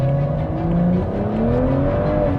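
A BMW 335i Performance Edition engine drones loudly and steadily while driving, its tone climbing gradually as it pulls, heard from close with no talking.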